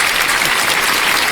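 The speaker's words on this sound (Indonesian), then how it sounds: "Teman-teman, tepuk tangan buat" A brief burst of dense, loud clapping comes from an audience at an Indonesian religious talk. It is close and continuous with no voices over it.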